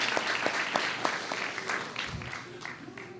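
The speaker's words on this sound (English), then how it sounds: "So let me get another round of applause for the worship team." Church congregation applauding the worship team during a service, a continuous patter of many hands clapping at moderate level, steady throughout and heard alone without talk.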